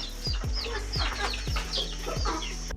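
Several hens cluck and chatter close by while eating feed, with repeated low thumps marking a steady rhythm beneath the busy fowl calls.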